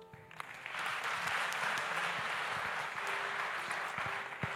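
A church congregation applauds during a worship service, steady broadband clapping that swells quickly and holds loud and dense throughout, with no clear voices on top.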